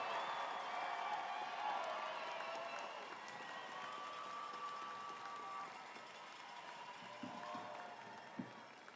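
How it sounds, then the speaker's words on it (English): A large graduation ceremony crowd applauds and cheers the graduates at a university commencement, a sustained, distant-sounding roar of clapping that holds steady and slowly eases toward the end. "join me to applaud and celebrate our grads!"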